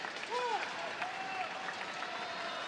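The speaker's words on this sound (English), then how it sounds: "Great to hear the crowd trying to rally their young players from Taipei" A home crowd at a badminton arena during the mixed doubles final of the 2017 Yonex Open Chinese Taipei cheers and claps to lift its players. The sound is a moderate, distant roar beneath a commentator's voice.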